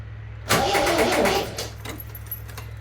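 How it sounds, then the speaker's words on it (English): A 12-month-idle MGB GT with a clicky starter cranks in one loud burst lasting about a second, then drops to faint clicks and a low steady hum with no talk. "It's just a clicky starter."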